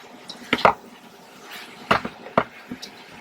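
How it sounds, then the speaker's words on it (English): Cooked noodles being stirred and reheated in a pan with char siu pork, giving a few scattered clatters and soft scrapes of utensil against the pan, close and moderately loud with pauses between strokes. "we're just heating them through and stirring them through everything"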